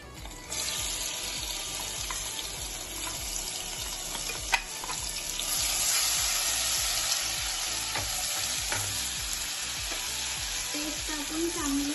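Curry leaves, ginger, garlic and chili paste fry in hot oil with a loud, continuous crackling sizzle that swells slightly midway, with a single sharp clink of a utensil.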